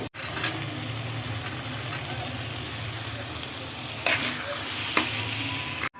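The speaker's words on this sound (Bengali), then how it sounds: "মশলা ভাজা হচ্ছে।" Spices and potatoes frying in a pan for a Ramadan home meal, a steady close sizzle with stirring scrapes and a couple of sharp clinks throughout.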